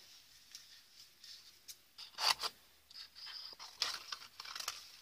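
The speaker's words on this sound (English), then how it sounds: "now I'm going to just quickly cut this out" Scissors snip through paper while a spring wreath treat bag piece is cut out, giving quiet, irregular crisp cuts and rustles that cluster into short bursts, close and soft with no voices.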